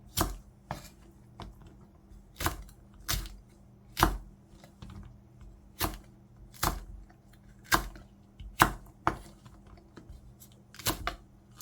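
A knife chops Cheongyang chili peppers into large pieces on a board in sharp, evenly spaced taps, roughly one per second, quiet and close with no talking.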